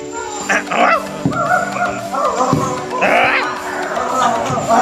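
At a building jobsite, a dog gives a few sharp barks and yips in short bursts, close and loud, mixed with nearby voices talking.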